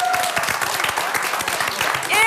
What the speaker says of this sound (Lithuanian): dar sykį paplokinėm